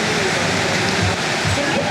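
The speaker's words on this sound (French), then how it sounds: "C'est incroyablement beau cette pluie" Steady, dense rain pours down in Ubud, Bali, a loud and unbroken hiss that fills the whole clip with no pauses.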